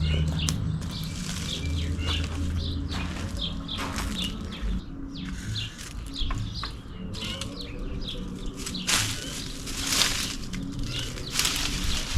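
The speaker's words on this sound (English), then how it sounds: "Oh, the birds are noisy" Birds chirping and singing in a garden with tulips and peonies, dense overlapping calls and flapping wings, fairly close and continuous throughout.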